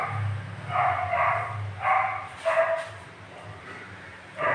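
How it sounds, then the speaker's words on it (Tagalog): A dog barks repeatedly at a moderate distance, a string of yappy barks with short gaps over a low ambient rumble. "Ingay ng aso ah."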